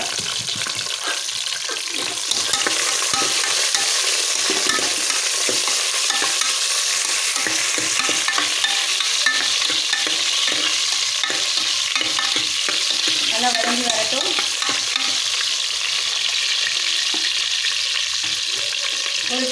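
Onions and tomatoes sizzle and crackle in a hot pan, a dense steady frying hiss growing louder after the first couple of seconds, with occasional stirring scrapes.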